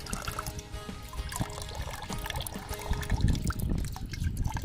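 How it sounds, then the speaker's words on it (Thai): Strong water gushing from a hose fed by a 12V solar-powered water pump, a steady, fairly loud rushing and splashing flow that continues throughout without pause. "น้ำไหลแรงมาก"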